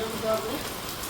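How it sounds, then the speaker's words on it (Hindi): Heavy rain falls on a truck repair yard where axle and spring pin work has been done, a steady broadband hiss of drops with no clear breaks. "बरसात तो रुकने का नाम ही नहीं ले रही है।"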